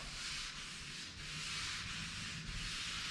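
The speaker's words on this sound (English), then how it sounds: "This sanding block right here is a unique sanding block." Wet sanding a 1969 Chevelle with a sanding block: the block rubs back and forth across the surface in steady, rhythmic strokes, a soft gritty scraping repeated about four times with no talking.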